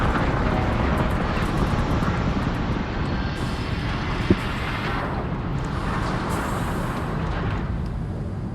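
A spaceship lifts off in the video game Star Citizen with a constant loud engine roar and deep rumble that swells in waves, carrying on steadily without voices.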